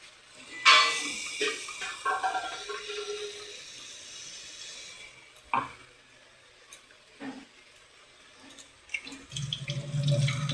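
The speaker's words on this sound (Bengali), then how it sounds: "একটু জল দেবো।" Water poured from a tap into paneer masala curry being cooked with ginger-cumin paste: brief bursts of running, splashing water alternate with clinks and quiet gaps, ending in a low gurgle.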